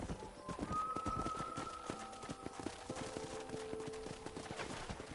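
Horse hooves clip-clopping in the Red Dead Redemption video game, a steady rhythmic clatter near and fairly loud, with faint ambient tones and bird-like chirps behind it.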